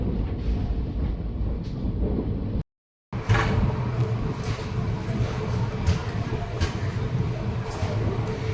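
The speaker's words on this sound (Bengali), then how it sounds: "ফাইনালি ট্রেন এসে পৌঁছালো তার ডেস্টিনেশন নিউ আলিপুরদুয়ার।" Teesta Torsa Express pulling into New Alipurduar station on a foggy morning, a steady rumble of wheels and carriages with a brief cut of silence partway through, and faint voices under the noise.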